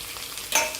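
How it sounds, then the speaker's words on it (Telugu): Paneer pieces fry in hot oil for fried rice, a brief, soft crackle that swells into a louder sizzling burst toward the end. "మన పన్నీర్ ముక్కల్ని కూడా ఒక నిమిషం వేయించుకోవాలి"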